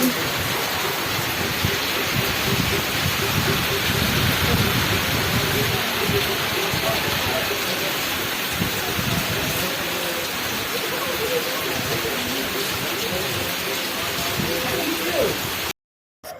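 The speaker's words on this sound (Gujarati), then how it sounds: "મેઘરાજા વરસી ગયો છે હજી આ બાજુ વરસાદ છે વાદળા ગાજે છે" Heavy rain falls in a steady, dense roar like a downpour on surfaces outdoors, continuous and fairly loud from start to end with no distinct thunderclap standing out.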